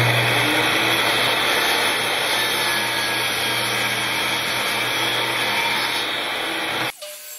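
A miter chop saw cutting a dado into a terracotta flower pot for a solar oven, its motor whining at a steady loud level for about seven seconds before stopping abruptly and spinning down.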